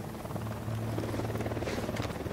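Helicopter in the video game Ghost Recon Wildlands, a steady low rotor drone holding loud and continuous throughout with a brief brighter swell near the end, and no talk over it.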